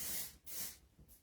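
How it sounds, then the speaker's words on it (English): A can of texturizing hair spray gives two quick hissing bursts close by, with a brief pause between them and a softer puff trailing off at the end. "This is a texturizing spray."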